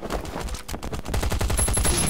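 Rapid bursts of gunfire from the survival shooter Last Island of Survival, loud and close, repeated shots growing denser toward the end with no talking.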